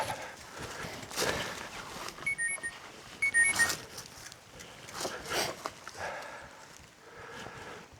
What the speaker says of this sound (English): something's beeping at me, but I don't know what it is